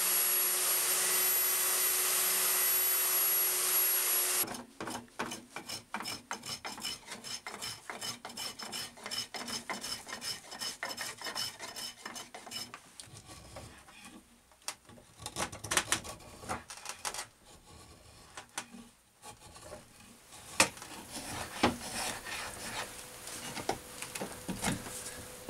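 Sandpaper scrubbing a wooden axe handle in rapid back-and-forth strokes, close and steady, after an opening stretch of loud broadband hiss.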